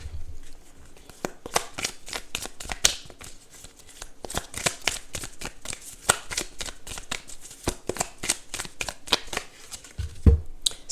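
Tarot cards are shuffled for a reading in a rapid run of crisp riffling flicks and soft slaps, close and fairly quiet, continuing in bursts for about eleven seconds.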